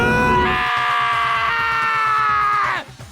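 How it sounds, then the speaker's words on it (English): A loud, sustained scream rings out in the video game Danganronpa: Trigger Happy Havoc, held for over two seconds over a rhythmic game music bed before cutting off abruptly. "Hey, I heard screaming."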